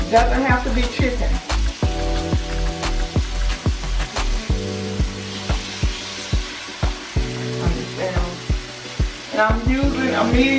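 Chicken frying in a wok over medium-high heat, with a steady loud sizzle and repeated rhythmic scraping or stirring knocks throughout, and a voice talking at times over the cooking.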